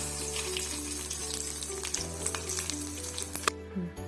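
Mustard seeds, cumin and curry leaves sizzling in hot oil, with a dense crackling hiss, scattered pops and a low steady hum underneath, fading toward the end.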